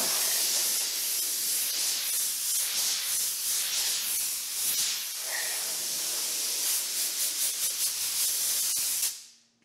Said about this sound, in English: if you don't have an air compressor like I do, if you have a blower, you can completely dry your car touch-free